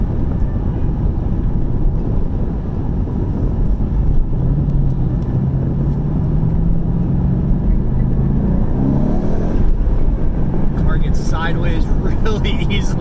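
A rebuilt 2021 Ford Mustang GT with a V8 drives along with a steady, loud engine drone and road rumble throughout, a rising tone in the middle hinting at acceleration, and no speech.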